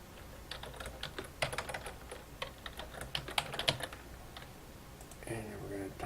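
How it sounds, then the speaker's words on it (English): Typing team names and scores on a computer keyboard: quick, irregular key clicks in short bursts at moderate closeness, ending in a brief different tonal sound. "We're going to type in the opposing team like that."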